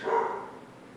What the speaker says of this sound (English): Sorry for my dog. He's probably barking at a squirrel or something.